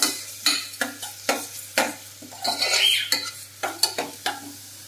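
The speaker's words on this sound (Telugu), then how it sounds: "బాగా ఫ్రై చేయాలి." A spatula scrapes and knocks against a pan in repeated rhythmic strokes over a soft sizzle of carrot and chana dal curry frying with salt and green chillies, with no one speaking.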